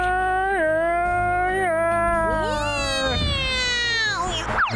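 A cat meows repeatedly in drawn-out, whiny calls, close and loud, with some voices mixed in.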